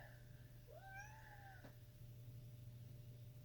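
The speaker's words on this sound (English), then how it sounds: "I'm sorry if you hear a cat crying." A single drawn-out cat meow, rising then falling, faint and slightly distant, over a low steady hum.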